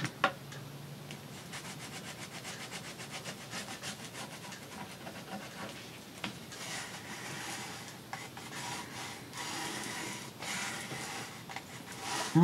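Glued paper crinkling and rustling up close, a steady dry crackle that carries on with small bursts throughout.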